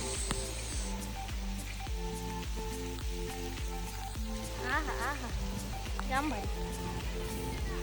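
Steady hiss of monsoon rain falling at a farmhouse, with music-like tonal layers and occasional voices mixed underneath.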